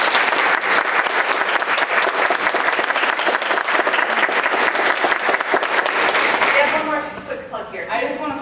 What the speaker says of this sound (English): let's give these ladies a big round of applause